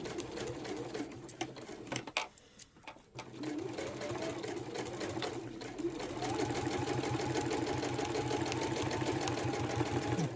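A sewing machine stitches a quilted hot water bottle cover with a close, rapid mechanical whir that pauses briefly, then restarts and runs steadily louder, while a voice speaks now and then.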